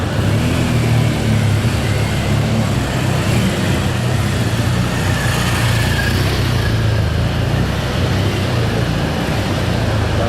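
A BMW GS motorcycle climbs a bank off-road at a riding skills demo, its engine droning steadily and loudly with slight revving throughout, set against outdoor noise and with no talking.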